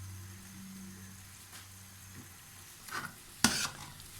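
A thickening sugar-free vanilla ice cream mixture is stirred in a pot on the stove, giving a soft, quiet bubbling background broken by a few brief scraping stirs near the end.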